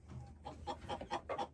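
A hen clucks in a short run of soft, close, rhythmic bursts, with no talking over it.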